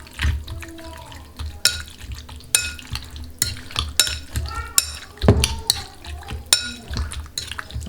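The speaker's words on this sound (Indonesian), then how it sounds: "Kita aduk-aduk semuanya." Chicken being stirred in a bowl with a honey sesame marinade, with irregular wet squelching and sticky clinks of a utensil against the dish, close and moderately loud, in uneven bursts with no speech.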